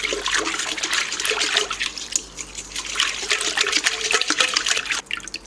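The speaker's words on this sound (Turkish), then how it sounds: "Şimdi bunları iyice karıştıracağım." Yeast, olive oil and apple vinegar being stirred together in a bowl for lavash dough, producing a continuous wet sloshing and swishing close up.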